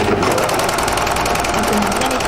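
Juki MO-4S overlock serger running without fabric, a loud, fast, continuous mechanical chatter with an even rhythm and steady motor hum throughout.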